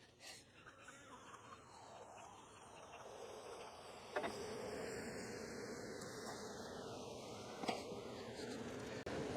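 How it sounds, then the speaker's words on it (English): Honey bees swarm around an open hive, a dense continuous buzzing hum that fills the air throughout, with a few faint clicks and no voices. "I am happy to see that we have lots of bees"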